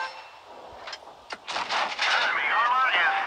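Tank cannon fire from the World of Tanks Blitz game, with a couple of sharp impacts followed by a louder burst of blasts and metallic clanging, mixed with game sounds.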